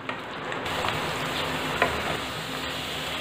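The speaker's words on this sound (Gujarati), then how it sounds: "તેની અંદર પહેલાં બટેકા ઉમેરીશું। અને તેને આપણે સરસ ફ્રાય કરી લેવાના છે।" Potatoes frying in hot oil over a high gas flame give a steady, close sizzle that crackles and spits throughout, with no voices.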